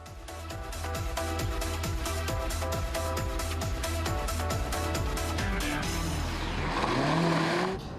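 A Mazda MX-5 with a 96 kW gasoline engine drives in a steady, loud hum, with rhythmic pulsing engine tones and a rising rev and tire scrub toward the end; no talking.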